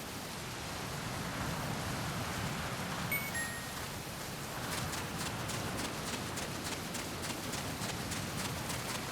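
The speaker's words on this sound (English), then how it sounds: "Remember that your footsteps are louder when running, making you easier to discover." Running footsteps from the video game Metal Gear Solid Peace Walker, a fast string of soft steps heard over a steady wash of background ambience.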